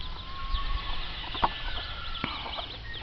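Free-ranging chickens, hens and a white cockerel, cluck in short scattered bursts close to a chicken house on a farm, with a few sharper calls over a quiet background and no talking.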